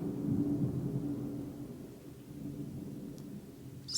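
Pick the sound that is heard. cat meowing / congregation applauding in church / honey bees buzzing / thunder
thunder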